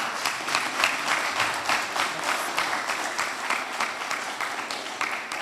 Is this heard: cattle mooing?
no